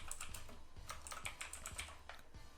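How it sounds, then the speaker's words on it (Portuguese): Quick close typing on a computer keyboard, a fast run of light clicking keystrokes in an otherwise quiet room, with no voices. "Clicar e digitar já o título."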